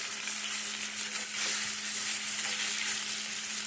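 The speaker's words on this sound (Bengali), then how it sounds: "পনিরের কাঁচা গন্ধটা যাতে না থাকে এইভাবে একটু ভেজে নেব" Paneer frying in butter in a pan gives a continuous, even sizzle, close and fairly loud, with faint stirring movements underneath and no voices.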